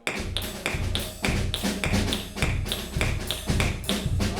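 Crisp snare drum strokes in a steady, even rhythm during an accent exercise at a drum clinic, with some hits landing noticeably louder as accents, played up close with no talking.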